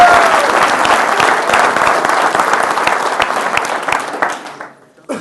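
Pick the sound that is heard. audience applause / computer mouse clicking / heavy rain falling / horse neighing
audience applause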